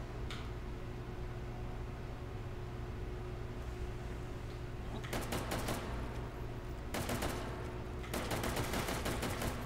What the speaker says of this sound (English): This is a semi-auto rifle.